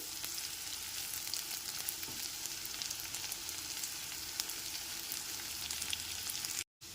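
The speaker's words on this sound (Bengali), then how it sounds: "কাঁচা লঙ্কা কুচিটাও পেঁয়াজ আর রসুনের সাথে খুব ভালো করে একবার মিশিয়ে নিচ্ছি" Chopped green chili frying with onion and garlic in a pan for butter garlic mushroom, a dense continuous hiss with light stirring scrapes, close and steady, cutting out abruptly near the end.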